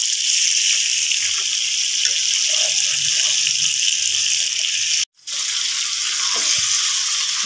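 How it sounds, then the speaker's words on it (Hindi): Spice masala fries in hot ghee for chicken qorma, giving a close, steady sizzling hiss that cuts out for a brief instant before carrying on. "ये घी गर्म है। यहीं पे ये अच्छे तरीके से सिर्फ मिलकर उसमें फ्राई हो जाएगी।"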